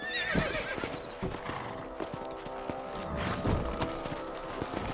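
Horse hooves clip-clopping at a steady gallop in the Red Dead Redemption video game, with an occasional whinny, close and prominent over a busy layer of game music and ambience.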